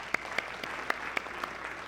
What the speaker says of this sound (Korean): 박수로 우리 축복까지요